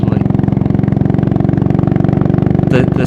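A 1950s British single-cylinder motorcycle engine thumps loudly and close in a steady, even pulse, with a brief higher-pitched burst near the end.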